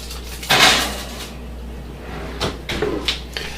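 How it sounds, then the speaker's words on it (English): A metal meatloaf pan clatters as it slides into a 350-degree oven, then the oven door thuds shut a couple of seconds later, followed by lighter knocks, close and clear in a quiet kitchen. "put it into a 350 degree oven"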